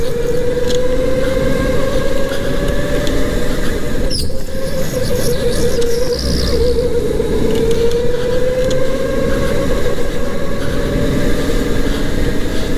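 An indoor go-kart at a karting track whines steadily at close range, its motor tone drifting up and down continuously with rushing noise and a brief squeal partway through.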